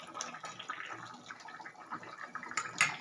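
A pot of curry with rui and katla fish heads and fenugreek greens bubbling on the boil, giving off soft, uneven gurgles and small pops at a low, close-up level.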